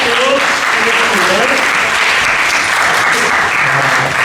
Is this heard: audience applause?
yes